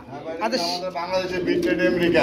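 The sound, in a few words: English tumbler pigeons cooing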